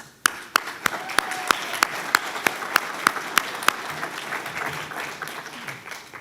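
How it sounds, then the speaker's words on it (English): Conference audience gives a round of applause at a MobileMonday Toronto meetup, a small crowd clapping briskly with loud, distinct individual claps near the front that fade after a few seconds into a softer murmur. "Joe and his team has really put together a great conference and put a lot of work into this, so I think they deserve a round of applause."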